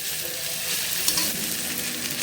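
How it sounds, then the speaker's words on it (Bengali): Onion and green chili frying in a pan for an aloo chop filling, giving a steady close sizzle with light stirring scrapes throughout and no talking. "তো এখানে যে পেঁয়াজটা একটু ভেজে নেব, কাঁচামরিচ দিয়ে দেব।"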